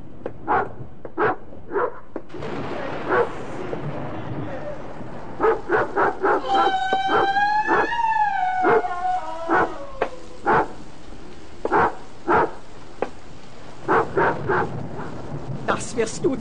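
In a 1976 German radio play, a dog barks in short sharp bursts, breaks into a long wavering howl midway, then resumes barking, close and loud.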